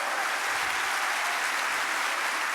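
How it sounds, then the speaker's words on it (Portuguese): Steady, even applause from a church congregation during a worship service, a continuous wash of clapping with no distinct individual claps standing out. "dê um aplauso a Ele."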